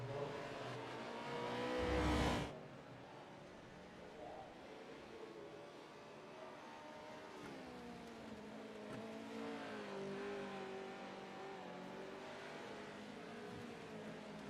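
Race car engine in the iRacing sim at Mosport during a V8 Supercars support series event, a steady loud drone with shifting revs as the car works through the last corners, with a brief loud burst near the start and faint talk beneath.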